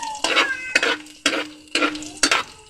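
Garlic sautés in a pan for tinola, with a soft sizzle under five rhythmic scraping strokes of a utensil stirring against the pan, each stroke sharp and close.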